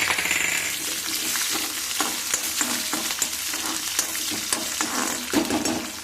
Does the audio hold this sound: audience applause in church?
no